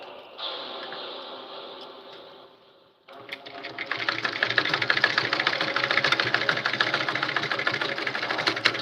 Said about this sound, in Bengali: দেখুন সেলাই করা হয়ে গেছে, আমার হাতে লাগানো হয়ে গেছে।